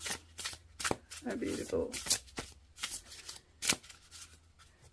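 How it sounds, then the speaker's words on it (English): Oracle cards being shuffled by hand, a close run of soft riffling swishes and taps in quick uneven bursts, with a brief spoken remark partway through. "Okay, let's give them a shuffle."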